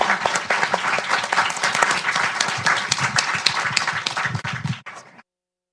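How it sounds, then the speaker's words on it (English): A conference audience gives a sustained round of applause for the panelists after a climate policy discussion, a dense, loud wash of many clapping hands that stops abruptly near the end. "Applause for the panelists and for all of our speakers"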